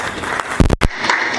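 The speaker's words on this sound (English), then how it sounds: "Let's give a round of applause for her." Audience applause at a Toastmasters speech contest event, a short burst of dense clapping from a crowd that breaks briefly and resumes.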